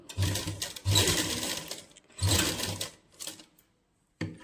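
A sewing machine stitches lace onto a party-wear suit dupatta, running in several close, loud bursts of rapid mechanical whirring separated by short pauses.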